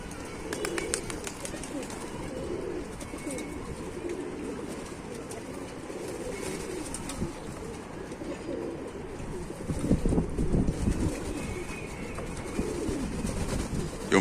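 Racing pigeons in a rooftop loft cooing softly in a low, murmuring chorus against a steady background hum, with no talking.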